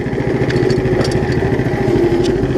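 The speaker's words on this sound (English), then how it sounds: "I'll rev it up." A Case 700 garden tractor powered by a Power Fist 420cc engine runs loud and steady close by, its chugging, even rumble holding without pause.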